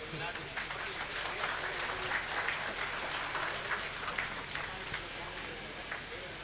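Applause from an audience at a NEET UG felicitation ceremony run by a welfare society in India, a faint, steady patter of clapping that lasts throughout with some crowd murmur.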